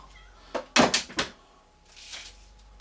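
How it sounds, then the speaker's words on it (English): A cat meows a few times in quick succession, fairly close, followed by a softer, drawn-out meow after a short pause. "Now the cat's going to start bloody meowing."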